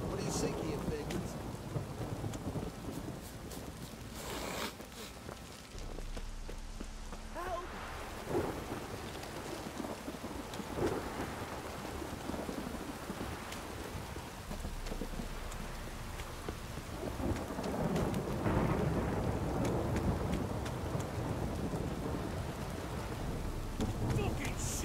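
Heavy rain and rolling thunder in the video game Witcher 3, a dense continuous downpour with low rumbles swelling and fading, while voices talk faintly underneath.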